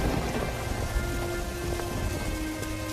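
Heavy rain pours in a winter thunderstorm, a loud dense roar of rain on surfaces with low rumbling thunder underneath, continuous throughout.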